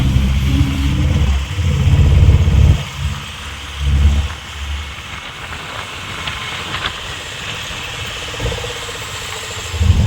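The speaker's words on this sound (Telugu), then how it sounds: "ఫైర్ ఇంజిన్ అయితే వెళ్తుంది" Fire engine driving past on a road in summer, heard from inside a moving vehicle as a heavy rumbling engine that swells and fades across the first few seconds, under a steady road drone.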